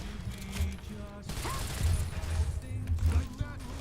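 Gunfire hits the player character in Fallout: New Vegas, a dense, continuous clatter of shots and impacts layered with busy game noise for the whole stretch.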